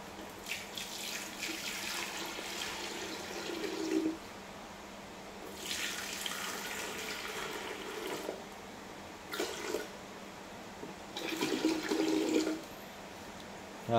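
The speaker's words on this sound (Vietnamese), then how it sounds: "Xong giờ em đổ nước vô nha." Water runs in several pours of a few seconds each into a vintage National electric thermos flask, a Japanese domestic model rated for 100 V, with splashing bursts separated by short pauses.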